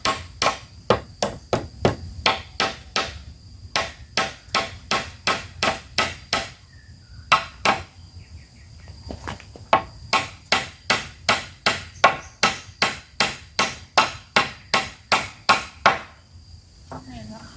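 Sharp hammer blows drive nails into wood in steady bursts, dozens of close, crisp knocks with brief pauses between runs, while building a clothes-drying rack, over faint outdoor insect chirping.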